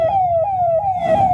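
An ambulance siren wails in road traffic, a loud near tone that sweeps down and up in a repeating cycle over engine rumble.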